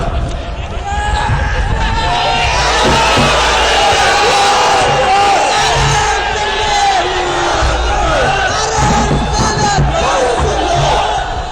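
A large crowd chants religious slogans together in a loud, continuous roar of many voices, steady throughout with rising and falling shouts.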